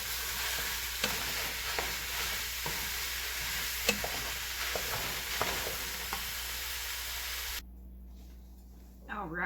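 Ground beef browning in a pan, a steady close sizzle broken by scattered spatula scrapes and taps. Near the end the frying stops and a brief different noise follows.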